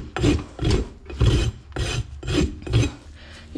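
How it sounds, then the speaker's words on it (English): A pony's hoof rasped during a barefoot maintenance trim, six loud, rough filing strokes in a steady back-and-forth rhythm, close up with brief pauses between strokes and no talking. "so I'll just rasp the rest."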